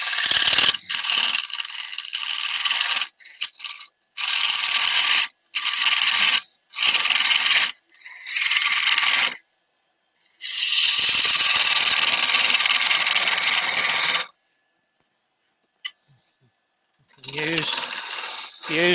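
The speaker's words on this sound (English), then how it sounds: "So I'll get down to the bottom, use the other wing. Go back to the spindle gouge." A spindle gouge cuts a wooden mushroom spinning on a lathe, giving a loud, close, hissing scrape in repeated bursts of one to three seconds broken by short pauses, with one longer cut of about four seconds near the middle.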